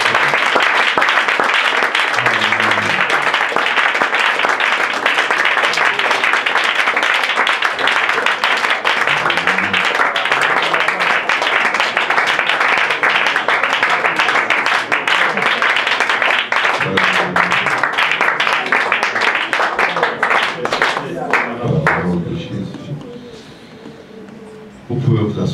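A church congregation applauds loudly and steadily for about twenty seconds, with cheering voices mixed into the dense clapping, before it tapers off near the end.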